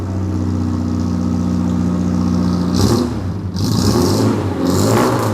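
A car engine with oil burning in the combustion chamber, sending blue smoke from the exhaust, idles steadily and then revs up hard in three loud surges near the microphone.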